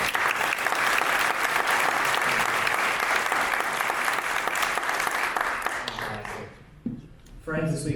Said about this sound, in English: a round of applause for our moderator for the evening